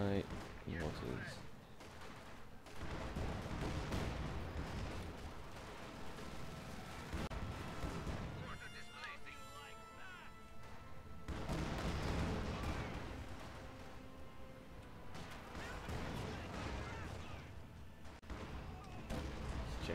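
Mortar and artillery fire in the WWII strategy game Company of Heroes 2, a dense barrage of booming launches and impacts rolling on loudly throughout, with a brief lull midway before the blasts resume.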